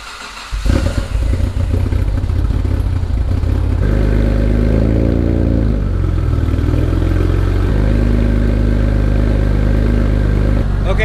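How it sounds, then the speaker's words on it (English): A freshly rebuilt 6G72TT twin-turbo V6 in a Mitsubishi 3000GT VR4 fires on a cold start and settles into a loud, steady idle close by, its pitch shifting slightly as revs waver. "So let's get it started up. I'll get you a cold start."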